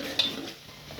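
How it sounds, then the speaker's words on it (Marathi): Vegetables being stirred in a pan with curry leaves and green chillies, a soft spoon scrape and quiet steady frying hiss, with one brief clink near the start. "फिरव चांगलं."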